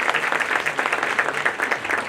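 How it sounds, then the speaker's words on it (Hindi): A crowd claps together in sustained, even applause, dense and lively throughout, with no voices standing out. "जोरदार तालियां आप सब लोगों के लिए"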